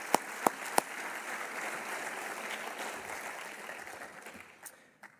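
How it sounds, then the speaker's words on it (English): A Hall of Fame induction audience claps for the inductees, a moderate, even spread of applause that slowly fades out, opened by three sharp, close knocks or thumps. "So I just do want to give a round of applause to them."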